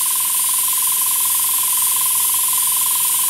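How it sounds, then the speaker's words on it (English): Airbrush spraying thinned Tamiya paint onto the back of a cardboard box, a steady, loud, even hiss of compressed air running continuously throughout with no pauses and no voices. "I'm just spraying it on the back of a box."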